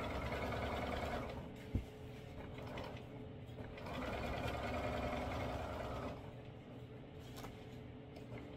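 A sewing machine stitching fabric for a pants facing, running in steady whirring bursts with short pauses and a single sharp click, quiet and close.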